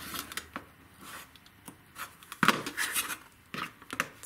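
A rotary cutter slices along the sides of a quilt block on a cutting mat, giving soft scattered scraping and gritty cutting strokes with light taps, quiet and close.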